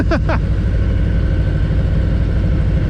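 A 2023 Harley-Davidson Heritage Classic on its stock exhaust runs during a test ride, giving a loud, steady, muted low engine rumble throughout.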